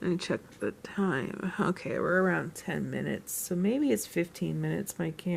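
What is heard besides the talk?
None of the usual background noises is heard.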